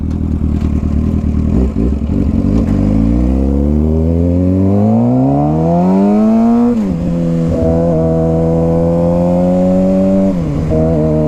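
A loud Suzuki GSX-R sport motorcycle engine revs up steadily, drops sharply, then climbs and holds at high revs before another quick blip.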